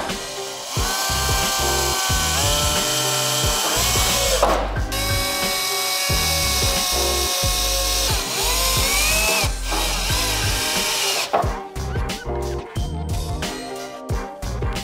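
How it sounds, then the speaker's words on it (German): A power drill with a 5 mm bit whirs steadily at high speed in repeated bursts, with short pauses and clicks between runs, close and loud. "Dann bohren. Wird gebohrt. Mit einem 5er Bohrer."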